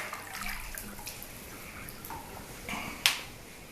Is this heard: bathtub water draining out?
yes